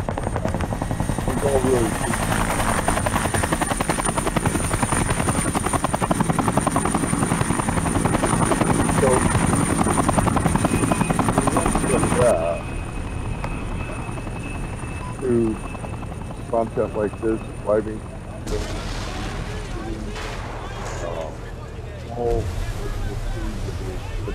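A helicopter's rotor thumps loudly and continuously, then drops to a lower, more distant whir with a voice speaking briefly over it.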